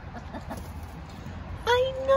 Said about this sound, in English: Waffy, don't peck Ticktock.